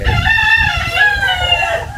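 A rooster crows loudly and close by over a steady background of chickens clucking, the crow stretching across most of the moment.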